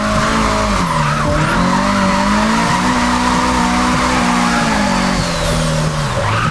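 Toyota AE86 in a video game sliding through a drift, tyres squealing continuously with a high sustained screech over the engine's droning hum, loud and close throughout.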